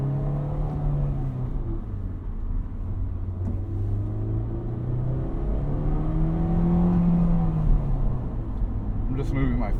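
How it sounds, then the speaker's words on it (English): A manual-transmission car pulls away in first gear, its engine note rising and falling steadily under close in-cabin talk as the driver eases off the clutch and presses the gas. "Car is rolling. Push the gas."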